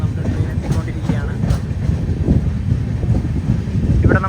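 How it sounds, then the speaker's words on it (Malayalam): Mangala Lakshadweep Express rolling into Pazhayangadi railway station, a low rumbling train approach with wind buffeting the microphone, fairly loud and steady, with a voice talking over it. "പഴയങ്ങാടി റെയിൽവേ സ്റ്റേഷനിലേക്ക് ഇതാ നമ്മുടെ ട്രെയിൻ എത്തിക്കൊണ്ടിരിക്കുകയാണ്"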